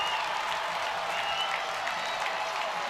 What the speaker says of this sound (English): And this crowd is going absolutely wild right now.